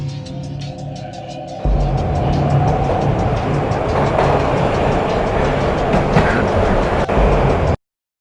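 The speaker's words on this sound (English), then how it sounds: "This was my second train ride of the night." A train ride in the video game Max Payne: a steady, loud rolling rumble with rapid rhythmic clatter of wheels on track. It swells sharply after a quieter opening and carries on evenly to an abrupt stop.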